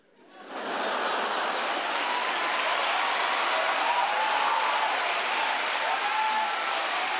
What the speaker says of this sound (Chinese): 你们不要鼓掌鼓那么多了